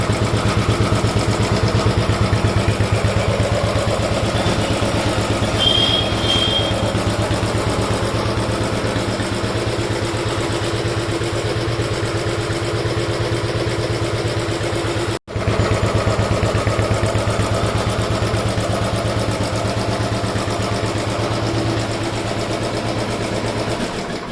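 A motorcycle engine idles steadily after its chain has been lubricated, a loud, close, even mechanical hum and rattle that runs throughout with one brief dropout midway, no voices present.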